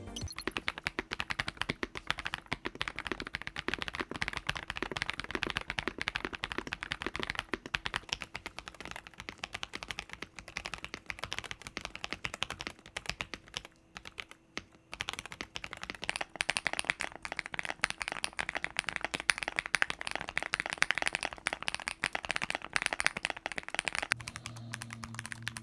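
Typing on an Epomaker TH85 gasket-mounted mechanical keyboard with a polycarbonate plate produces dense, rapid clacks and taps, steady and close-miked, with a brief pause midway before the typing resumes.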